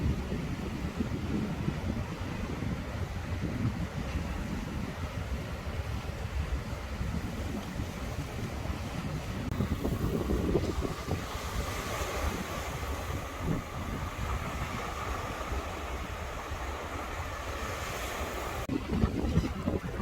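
Ocean waves washing onto a beach, a steady rushing surf with gusts of wind buffeting the microphone, no voices present.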